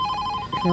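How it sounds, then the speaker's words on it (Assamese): A mobile phone rings with a short electronic ringtone, steady tonal beeps sounding clearly for under a second with no talking. "এই কাৰ ফোন আহিলে? ফোন বাজিছে"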